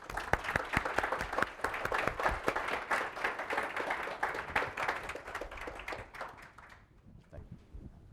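An audience gives a sustained round of applause to welcome a speaker at a talk, with dense clapping that holds steady, then thins out and stops near the end.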